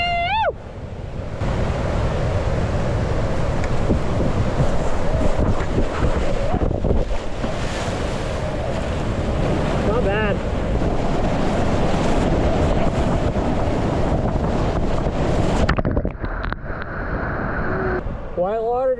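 Whitewater rapids on the North Fork French Broad river make a continuous rushing roar, close and loud, with heavy wind buffeting the microphone and brief voices near the start and end.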